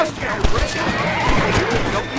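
A horse in Red Dead Redemption gives a loud whinny over clip-clopping hooves in a busy outdoor game scene, with someone speaking over the sounds.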